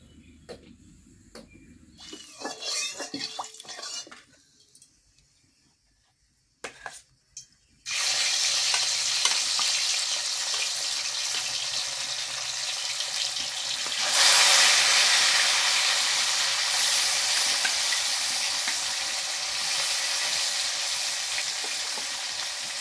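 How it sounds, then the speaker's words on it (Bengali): Fish frying in a pan for a home-cooked meal alongside khichuri and brinjal, a loud steady sizzle that starts after a few quiet kitchen sounds and swells louder midway, continuing alone without talk. "শেষে মাছগুলো ভেজে নেব।"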